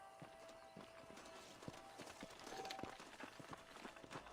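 Horse hooves clip-clop in a steady, quick rhythm, galloping in Red Dead Redemption, with a faint whinny and outdoor ambience behind them.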